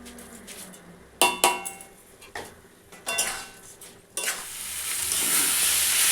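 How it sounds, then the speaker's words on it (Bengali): Gobindobhog rice is stir-fried in a pan with fried potatoes and a little water for a Bengali muri ghonto, with sharp spatula scrapes and clinks against the pan and a rising sizzle building toward the end. "চালটা ভালো করে কষে নিতে হবে, তাহলে ভালো গন্ধ বেরোবে, ভালো টেস্ট হবে।"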